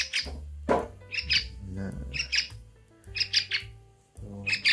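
A young yellow-vented bulbul (trucukan), a tame hand-raised chick about two weeks old, gives repeated short high chirps in bursts close by, with a brief word spoken once.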